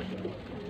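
Pigeons kept in a loft in Faisalabad give a soft, low coo, faint and brief against a quiet background.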